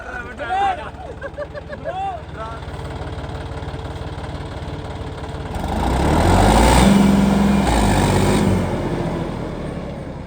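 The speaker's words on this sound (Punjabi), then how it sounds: "ਜਿਵੇਂ ਬਈ ਹੋਰ ਟਰੈਕਟਰ 4x4 ਆਵਾਜ਼ ਕਰਦੇ ਨੇ ਦੇਖੋ ਓਵੇਂ ਆਵਾਜ਼ ਤਾਂ ਨਹੀਂ ਕਰ ਰਿਹਾ" A diesel 4x4 tractor engine with a leaking gear seal runs at a steady idle, then revs louder for a few seconds before settling; people talk briefly early on.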